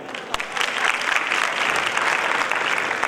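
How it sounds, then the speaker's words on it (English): An audience applauds at a chairman's address during a 2020 event, a dense, steady burst of clapping from a crowd that stays loud throughout. "Please give a big round of applause for Chairman Sri Adi Jain ji."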